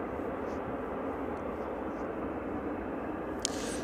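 A UPS Boeing 767 cargo aircraft at East Midlands Airport produces a steady, moderate engine rumble and hiss that stays even throughout, with a brief sharp click near the end.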